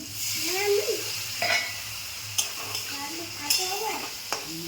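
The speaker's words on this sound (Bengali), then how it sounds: "নিরামিষ বাঁধাকপির ঘন্ট, একটু জল দিলাম" Spice paste with turmeric frying in oil for vegetarian cabbage ghonto just after a splash of water is added: a continuous close sizzle with repeated scrapes and clinks of a spoon stirring against the pan, and faint voice-like sounds beneath.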